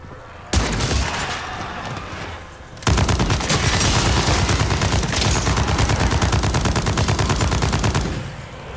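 Rapid automatic gunfire from a deployed sentry gun in a video game, a loud sustained burst after a brief opening volley and pause, with dense repeated shots over several seconds.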